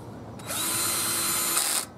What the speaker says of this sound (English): Just a regular Black and Decker drill.